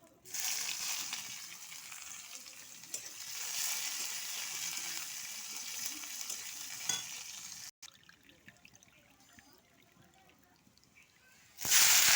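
Dried chili, black mustard seeds and chopped onion crackle and hiss in hot oil, a loud close sizzle that dips after the onion goes in and then settles to a softer steady fry.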